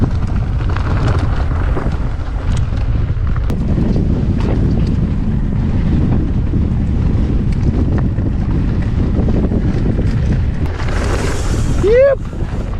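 Strong high winds buffet the microphone during a mountain bike ride on Skiddaw, a constant loud low roar through the whole stretch, with a brief rising whistle-like sweep near the end.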